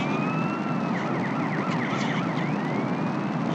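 A police car siren wails steadily in the distance for several seconds, its rising and falling tone sweeping over a constant background hum, with no voices.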